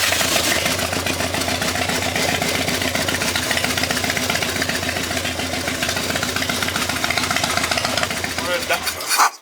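A Harley-Davidson Dyna motorcycle engine idles steadily after a warm startup on a budget build, its close, loud, even low-pitched rumble carrying a rapid rhythmic ticking throughout before cutting out abruptly at the end.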